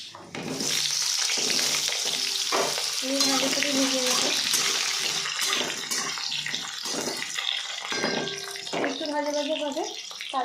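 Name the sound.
potatoes frying in oil with bay leaves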